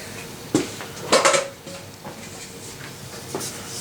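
A metal grate is set down onto a wood-burning stove with a few sharp clanks: one knock near the start, a louder cluster of rattling metal hits around the middle, then softer taps. No one speaks.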